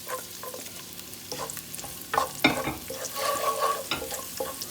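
Garlic sizzles in moderately warm oil in a pan for a pineapple and prawn fried rice, with a steady frying hiss, intermittent stirring scrapes, and a louder burst of sizzle partway through. No talking.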